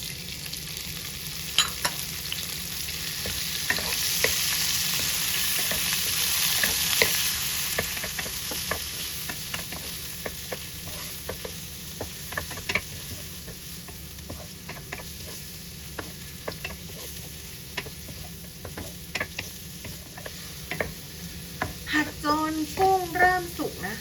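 Shrimp sizzling in garlic butter in a pan for a garlic shrimp sandwich, a steady close frying hiss with scattered crackles and stirring clicks throughout, a voice faintly audible near the end.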